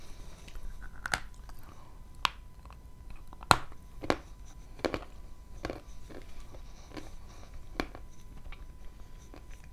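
Bites and crunches into a slice of white, pink or yellow Zhetysai melon, a series of sharp close crisp snaps and soft chewing scattered through an otherwise quiet stretch.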